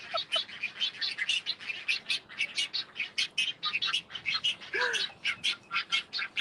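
Many birds at Gatorland, an alligator park in Florida, chirp and squawk continuously in a noisy rhythmic chorus, with one lower croaking call standing out midway.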